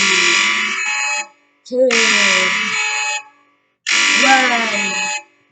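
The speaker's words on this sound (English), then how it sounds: "Yeah, that's exactly what this sounds like. It's a bit of an overkill, very crazy one. But yeah, it's the Greek EAS alarm." The Greek EAS emergency alert alarm sounds in three loud, harsh bursts, each about a second and a half long with a shrill buzzing tone and short silences between. A voice counts briefly between the bursts.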